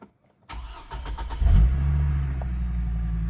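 An old, rough Hummer with an exhaust leak cranks briefly, then its engine catches with a loud roar and settles into a steady, rumbling idle, close by.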